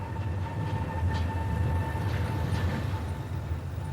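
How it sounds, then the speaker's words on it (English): A Sydney commuter train rumbles past with a steady low roar and a faint whining tone, continuous and moderately close throughout the short stretch. "A train comes along every 6 minutes."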